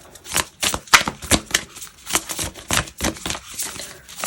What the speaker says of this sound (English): I'm gonna pull from the Moonology manifestation deck